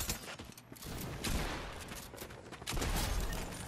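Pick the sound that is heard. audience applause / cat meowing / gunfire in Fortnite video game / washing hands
gunfire in Fortnite video game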